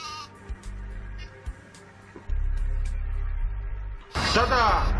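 Sheep weapon in Worms 4: Mayhem, a cartoonish bleat rising loudly near the end after quieter game noises and a low engine-like drone, with no talk over it.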